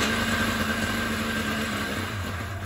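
A 1989 Ski-Doo Safari 377 two-stroke snowmobile engine running on ether, a steady close buzzing idle with a constant mechanical drone and slight wavering in pitch, no voices.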